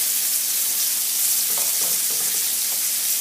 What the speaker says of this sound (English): Got a good stir like that.